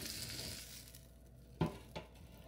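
Boneless ribeye steak sizzling quietly as it is flipped in an air fryer basket, with a soft hiss throughout and two brief clunks of the basket or tongs near the end.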